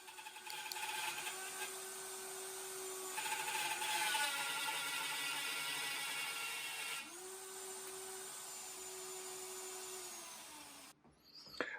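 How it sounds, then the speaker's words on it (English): Router-style mortise jig cutting a half-inch-deep mortise in a pecan wood table leg, a steady high whine of the power tool with pitch shifts as the cut progresses, ending abruptly. "I cut my 1/2 inch deep mortise, 2 sides on each leg"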